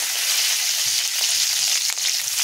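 Mustard seeds, cumin, green chilli and curry leaves sizzle in a few tablespoons of hot oil, giving a steady, loud, close-up hiss with small pops scattered throughout.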